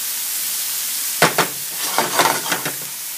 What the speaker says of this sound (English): So we'll saute this up a little bit